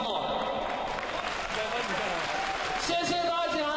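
An audience applauds in a dense, continuous patter that holds steady for a few seconds, with a voice speaking over it toward the end.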